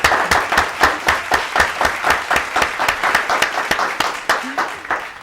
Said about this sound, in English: Let's give a big round of applause for Meridith Jumisko from the Kenosha Area Convention and Visitors